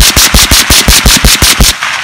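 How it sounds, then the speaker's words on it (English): Marlin Model 60 .22 LR semi-automatic rifle firing cheap rounds in rapid succession, about a dozen sharp, loud, evenly spaced cracks in a fast steady rhythm, close by, then stopping abruptly. "Let's burn some ammo."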